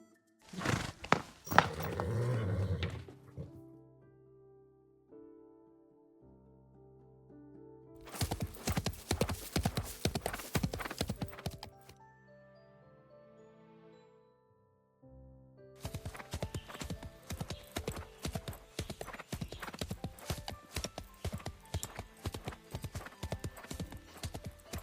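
Horse hooves clip-clop in the video game Love and Deepspace, coming in three rapid, rhythmic bursts separated by quiet gaps, loud and close.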